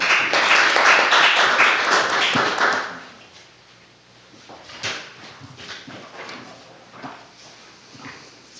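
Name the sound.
audience applause welcoming a speaker at a policy forum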